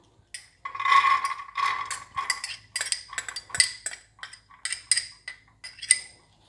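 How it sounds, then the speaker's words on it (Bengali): Dry mung dal lentils go into a metal pot for dal fry, landing in a series of rattling, clinking bursts of grains pattering against metal, close and fairly loud, in irregular pulses. "আর দিয়ে দিচ্ছি মুগ ডাল"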